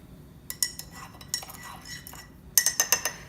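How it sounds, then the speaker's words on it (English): A spoon clinks against a cup while stirring Louisiana organic cane sugar and honey into a chicory café au lait, with several sharp metallic taps spaced out and a quick run of clinks at the end. "stir it around"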